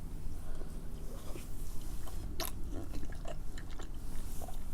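Close-up chewing and crunching while eating Samyang carbo spicy chicken noodles with dumplings, eggs and kimchi, steady wet mouth sounds with a few sharper bites and no talking.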